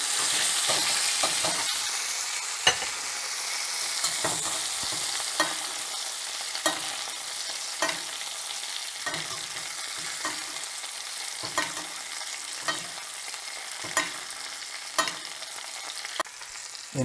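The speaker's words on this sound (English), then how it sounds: "after basting for a minute or two, we just want to flip them and hit the other side" Lamb loin chops sizzle in butter in a cast iron skillet, a steady close frying hiss broken by regular scrapes and clinks of a spoon basting and turning the meat.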